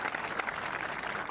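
Steady applause from the crowd at a women's gold-medal pickleball match in Phoenix, a dense even wash of clapping that holds at one level throughout, with no clear voices over it.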